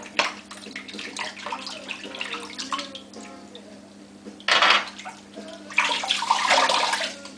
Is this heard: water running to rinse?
yes